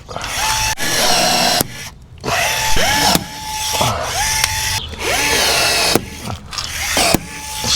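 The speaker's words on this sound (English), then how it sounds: "he's drilling into one of the edges there" A power drill bores into the edge of a metal C channel during a rear-end separation repair, whining loudly in repeated bursts that start and stop with brief pauses between them.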